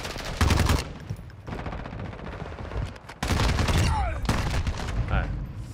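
Call of Duty MW3 gunfire in multiplayer: bursts of rapid automatic fire, loud and close, separated by short pauses.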